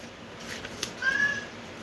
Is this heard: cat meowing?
yes